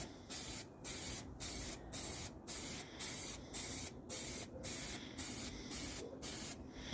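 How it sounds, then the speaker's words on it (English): Rapid bursts of spray paint hissing onto a glitter tumbler, about a dozen short, even sprays in a steady rhythm, close up and alone. "I'm way back here spray painting so that I'm not getting that hard line."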